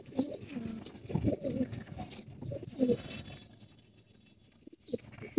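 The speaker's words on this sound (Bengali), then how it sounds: "বাঘা আর একটা বেজি কবুতর দেখা যাচ্ছে আপনাকে, দুটো কবুতর।" Pigeons cooing nearby in low, throaty repeated calls, with soft rustling and scuffling around them.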